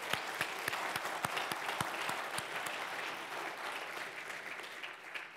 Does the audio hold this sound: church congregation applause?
yes